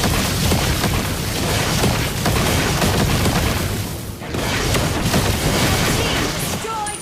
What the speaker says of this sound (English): Team destroyed a turret.